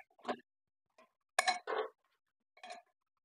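A few sharp metallic clinks and clatters as a lid is set on a cooking pot of dal, separate knocks spread across a quiet background.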